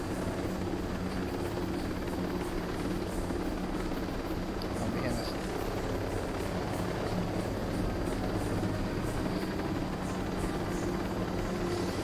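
A helicopter in the video game Ghost Recon Breakpoint gives a continuous dense rotor and engine roar, steady and fairly loud throughout with no clear breaks.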